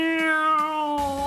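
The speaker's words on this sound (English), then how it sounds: "Do you guys hear that? Just the" A cat meows indoors during a relaxed drawing session: one drawn-out, clearly pitched meow lasting about a second, then a fresh call starting, close and fairly loud, with no talking.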